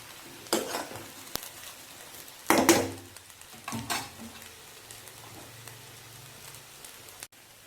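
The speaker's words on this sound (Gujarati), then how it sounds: "મુઠિયા વ્યવસ્થિત ફ્રાય થઈ ગયા છે." Methi muthiya, fenugreek dumplings, frying in a pan, with a low sizzle throughout and a few sharp scrapes and clinks as they are stirred, the loudest scrape near the middle.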